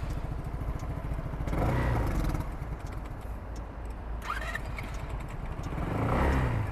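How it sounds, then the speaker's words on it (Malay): A SYM Naga motorcycle engine idles with a steady chugging beat, then revs up twice, rising loudly before settling back to idle. "Untuk last lah ni, kita dengar enjin tu."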